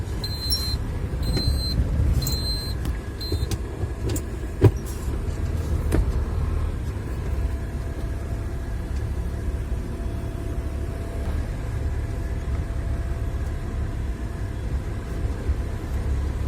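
Car driving to a concrete plant in Kyiv in February, with a steady low road rumble and engine hum throughout, a few brief high beeps and clicks near the start, and no talk.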